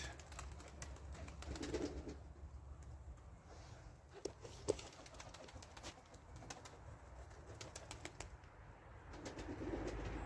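Tumbler pigeons of the Arab breed flying in an outdoor loft setting, with soft cooing and occasional wing flaps heard faintly over steady ambient background noise.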